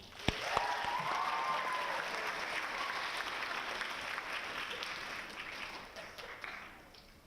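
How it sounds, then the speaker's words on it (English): Audience applause rolls on for a poetry recitation competitor at a youth poetry contest, broad continuous clapping from a large room with a few scattered cheers near the start, gradually tapering off. "So if we could please have a riotous round of applause for our first competitor of the second round, Edna Kenyanjui."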